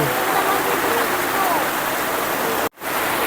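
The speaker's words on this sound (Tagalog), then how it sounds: "Grabe ang ulan." A downpour of heavy rain roars as a dense, unbroken wash of noise, loud and close, ending with an abrupt cut near the end.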